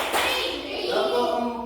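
A group claps together in a rhythmic classroom clap routine during a teachers' supervision session, a dense burst of hands that stays steady and fairly close for under two seconds.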